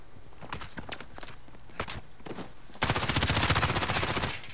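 Video game gunfire starts as a few scattered single shots, then breaks into a loud, continuous rapid-fire burst of automatic weapon fire close by that lasts several seconds.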